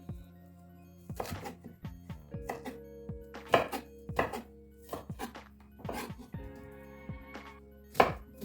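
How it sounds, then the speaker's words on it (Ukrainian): A knife chops an onion into cubes on a cutting board, a series of sharp, irregular knocks close up with quiet gaps between the cuts. "Так, цибулю ми нарізаємо на кубики."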